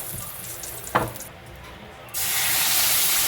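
Garlic frying in oil in a pan while cooking menudo: a steady broadband sizzle that surges louder partway through, with a brief clatter of stirring before it.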